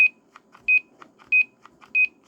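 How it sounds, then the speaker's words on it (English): A roger beep on a K-Po DX 5000+ CB radio, a short bright electronic tone chirping three times at a regular pace, with faint softer blips and a low hiss between the beeps. "Here's the Roger beep."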